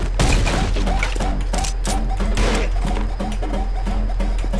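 Rapid gunfire from the first-person shooter Anger Foot, a loud, continuous barrage of shots layered with game music and clattering impacts, with no pauses across the stretch.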